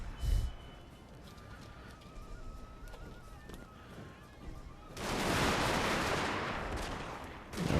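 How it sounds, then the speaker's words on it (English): Line infantry in Total War Shogun 2: Fall of the Samurai fire kneeling volleys, a dense burst of massed musket fire roaring loud for the last few seconds after scattered faint shots and battlefield noise. "And here I'll order kneel firing as well on the enemy."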